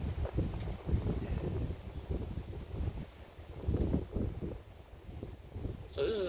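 Wind gusting outdoors ahead of an approaching rain band, a rough low rumble of buffeting against the microphone that swells and eases in waves and stays fairly loud throughout.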